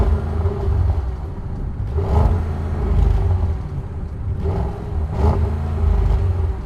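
A 2021 ABT Audi RS6-R, a tuned 690 hp V8, idles with a deep rumble and blips its throttle several times, each rev rising and falling, loud and close with no talking.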